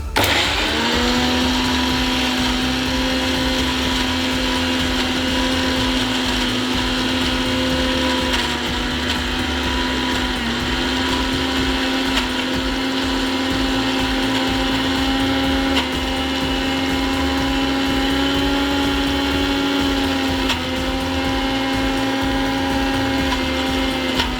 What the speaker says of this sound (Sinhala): හොඳට බ්ලෙන්ඩර් කරගමු.